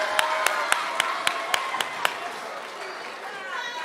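Claps from a kindergarten graduation crowd come as a few sharp, separate hits over the first two seconds, then fade into steady room murmur and chatter.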